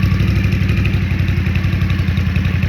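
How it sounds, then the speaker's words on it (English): A motorcycle engine idles close by as the rider parks it. It gives a loud, steady, rhythmic low chugging pulse throughout, with no voices. "Somebody's about to park their motorcycle."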